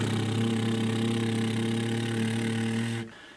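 A voice imitates a boat motor as a vocal warm-up, holding a steady buzzing lip-trill drone for about three seconds before stopping abruptly.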